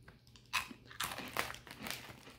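Post Waffle Crisp cereal from a single-serving snack pouch being crunched and chewed up close, with several crisp bites in quick succession and no talking.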